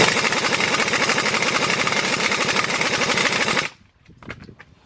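A pneumatic impact wrench hammers at engine bolts on a 2003 Nissan Maxima GLE 3.5, a loud continuous rapid rattling burst that stops abruptly, followed by a few faint clanks.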